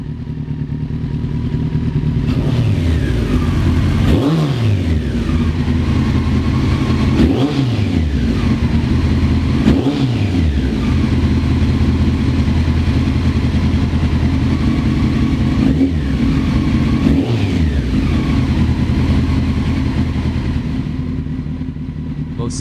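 CBR 400 motorcycle fitted with a 1996 Fireblade 919cc engine and Delcavage exhaust, revving loudly and repeatedly in sharp bursts that fall back to a steady idle between them, close by.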